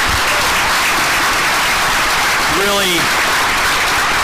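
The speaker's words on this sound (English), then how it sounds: "Can we give all those folks a round of applause as well?" Audience applause at a school board meeting, a broad steady wash of clapping filling the room throughout, with a brief voice cutting in partway.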